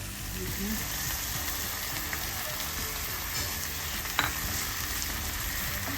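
Pork innards fry in a marinade with a loud, constant close sizzle and crackle, a metal utensil stirring and scraping now and then with one sharper clack partway through.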